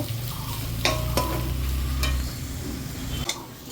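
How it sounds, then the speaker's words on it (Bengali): Potatoes being stirred and sautéed in a pan, with a close, soft sizzle under a few sharp scrapes and clinks of the spatula against the pan, and no talking. "আলু দিয়ে দিলাম, এটা ভালো করে আবার কষে নেব।"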